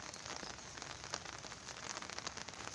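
Steady rain patters across a surface in the Konkan farm country, a dense, even hiss with scattered drip-like ticks throughout and no voices.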